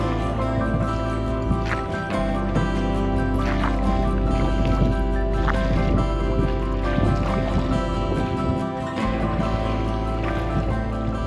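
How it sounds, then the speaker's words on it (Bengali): A boat crossing the water to the far bank near Kalyaneshwari, a steady engine-like drone with lapping water and wind buffeting, continuous and close, with no talk. "নৌকায় উঠে পড়েছি আবার ওইদিকে ওই পারে যাওয়ার জন্য"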